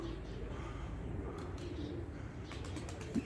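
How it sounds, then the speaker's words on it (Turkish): Young pigeons in a loft beat their wings in a few quick, soft bursts near the end, over a low steady background with faint cooing. "Kuşlarımız uçuyor"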